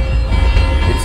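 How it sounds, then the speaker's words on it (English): Train Simulator scene of an Indian passenger line: a Brahmaputra Mail Express hauled by a WDM 3 diesel with LHP coaches rumbles loudly past on the opposite track, a dense close roar filling the whole moment with no talk. "One more train is coming on the opposite track."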